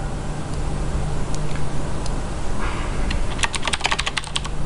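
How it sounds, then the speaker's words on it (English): Computer keyboard typing as details are entered into a document table: a quick run of light, crisp keystrokes toward the end over a steady low electrical hum. "you just directly type over the top"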